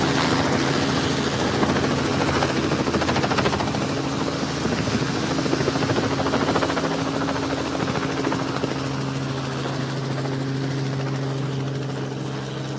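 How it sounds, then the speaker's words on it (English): A helicopter's loud, steady rotor thump and engine roar fill the whole clip, holding close and constant as it passes overhead. "the helicopter is passing right over me"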